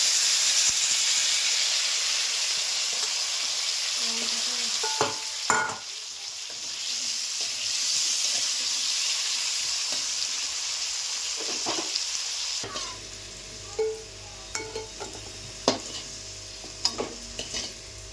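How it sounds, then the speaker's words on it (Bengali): Potato pieces fry in oil left from frying fish, giving a continuous bright hissing sizzle. Occasional stirring clatters and pan knocks grow more frequent toward the end. "মাছ ভাজার তেল ছিল, এখন আলুগুলো ভেজে নেব।"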